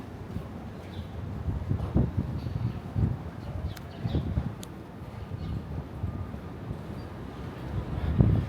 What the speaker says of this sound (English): It would be a perfect day outside if it wasn't windy.